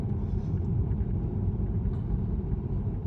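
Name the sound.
Tesla Model 3 driving on its own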